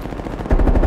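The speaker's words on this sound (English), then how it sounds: "Enemy sniper shooting." Sniper fire from an enemy in Call of Duty: Cold War: after a low rumbling half second, a loud burst of heavy gunfire cracks in with dense, rapid shots filling the rest of the moment.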